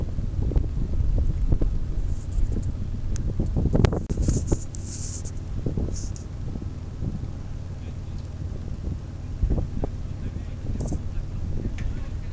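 Wind buffeting a camera microphone outdoors on a freezing cold day, a steady low rumble with heavier gusts thumping in around the middle, plus faint handling knocks.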